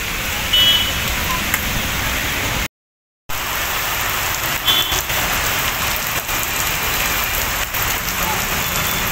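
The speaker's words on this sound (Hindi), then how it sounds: "वहीं दोपहर बाद बारिश हुई।" Rain falls steadily in an afternoon shower during the monsoon month, a loud, dense hiss of drops on surfaces lasting throughout, briefly cut to silence once, with faint traffic noise underneath.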